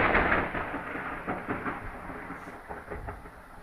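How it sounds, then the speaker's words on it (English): Thunder rolls through an Arizona lightning storm without rain: a fairly faint, deep rumble that swells at the start and slowly fades over a few seconds, with no other sound. "And there's no rain either, it's just all lightning and thunder."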